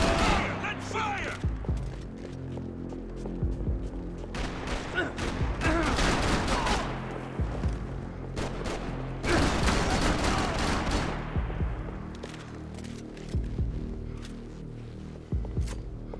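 Max Payne 3 gunfire, a dense, loud firefight with rapid bursts and overlapping shots that swell and ease across the stretch, over a low game soundtrack with occasional voices in the background.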